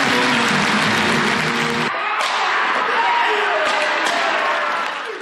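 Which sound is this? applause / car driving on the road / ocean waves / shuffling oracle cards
applause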